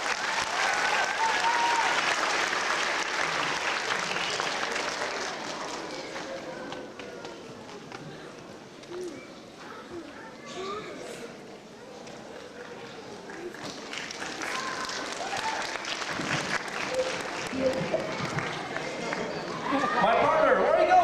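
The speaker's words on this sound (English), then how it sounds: "So let's give them another round of applause." An audience at a school D.A.R.E. graduation applauds the students, clapping that is strong at first, fades in the middle and swells again toward the end, with people talking over and between the claps.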